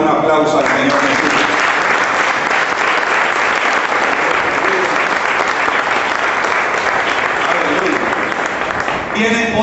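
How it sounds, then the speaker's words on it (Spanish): Sustained applause from a Spanish-speaking church congregation during a sermon on King David, loud and dense for nearly ten seconds, with brief speech at the start and end. "¿Cuánto le dan un aplauso al Señor Jesús?"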